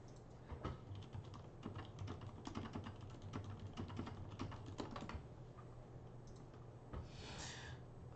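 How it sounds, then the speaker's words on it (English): Computer keyboard typing during an online card game match, quiet and close, with irregular bursts of key clicks running throughout and no talking. "I'm typing so slow compared to my opponent."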